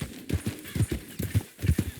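Horse hooves clip-clopping at a steady gallop rhythm in the open-world Western game Red Dead Redemption 2, close and fairly loud, with repeated paired hoofbeats.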